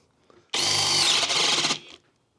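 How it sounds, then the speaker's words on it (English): Cordless drill boring a hole in wood, one continuous loud whining burst of about a second and a quarter with a strained grinding tone, beginning and ending abruptly, close up and heard alone. "What happens if I push down really hard as I'm drilling?"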